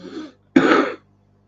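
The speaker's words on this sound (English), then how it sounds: "It's just a smoker's cough" Two rough throat-clearing coughs, a short soft one followed by a louder, longer hack, then quiet.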